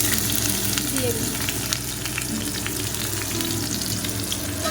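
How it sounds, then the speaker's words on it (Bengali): Boiled taro stolons (lati) frying in a pan while being stirred, giving a steady, close sizzle with occasional scraping, no talk. "এরপরে আমি এই সেদ্ধ করা লতিটা দিয়ে দিই।"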